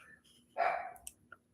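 A dog named Pickles, inside a truck, lets out a single loud, close bark, followed by a couple of small huffs and soft breathing sounds against a quiet background.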